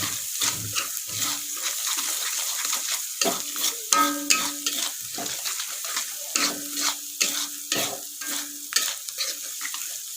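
Spices for soto Betawi fry in oil while a spoon stirs them, with steady soft sizzling and repeated scraping clinks against the pan, close and alone without talk.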